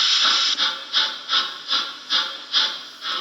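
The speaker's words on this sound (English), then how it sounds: "Now this loco does have a smoke generator" Smoke generator on a Trix HO model locomotive hisses close by in seven rhythmic puffs, each a bright airy burst fading before the next, like a steam exhaust beat.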